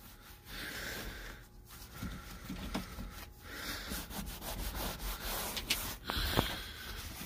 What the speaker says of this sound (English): Washing windows.